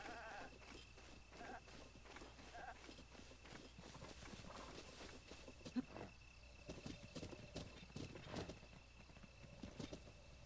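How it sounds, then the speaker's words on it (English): Horse hooves clop in the video game Zelda: Breath of the Wild, with faint, scattered footfalls and a few louder hoof strikes near the end amid quiet game ambience. "Horse, no, come back."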